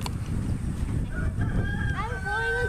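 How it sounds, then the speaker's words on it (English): A rooster crows once at a ranch, clear but moderately distant, rising near the end above a low rumbling outdoor background. "Did you hear that guy? He was a rooster."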